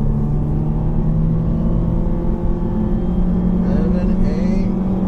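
An all-wheel-drive car launching hard from around 600 RPM, its engine droning steadily and close, rising gradually in a sustained acceleration run with no break.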